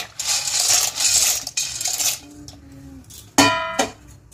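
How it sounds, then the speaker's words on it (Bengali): Dry macaroni pasta poured into a pot of salted boiling water, a loud rattling clatter of pieces against metal in bursts, then a couple of sharp clinks near the end. "এই সময় আমি ম্যাকারনি পাস্তাগুলো দিয়ে দেবো"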